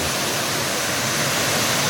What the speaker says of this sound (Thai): นี่คือน้ำตกพริ้วนะครับ ที่เป็นสายน้ำที่พริ้วไหลลงมาจากภูเขา